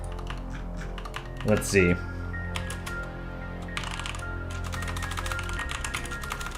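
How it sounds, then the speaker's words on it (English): Typing on a computer keyboard, a steady run of close, crisp key clicks with a brief louder burst near the start, while a person speaks a couple of words over a low background hum. "Do you guys like listening to the keyboard?"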